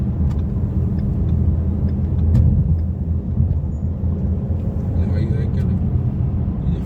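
A car drives along a highway on a road trip to Atlanta, producing a steady, loud low rumble of engine and road noise from inside the cabin, with people talking over it.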